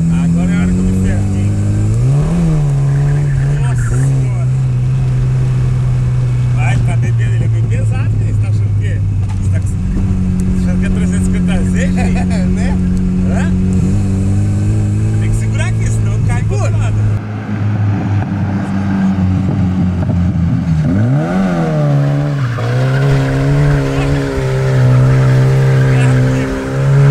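A Chevrolet Chevette is driven hard in a drift session, its engine revving up and down loudly and steadily with tire squeal mixed in, while people talk over it throughout.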